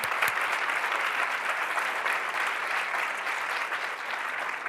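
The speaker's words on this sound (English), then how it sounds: "I will applaud you for that" Steady applause from an audience at a national sex education conference, a dense, even wash of clapping that holds throughout at full volume.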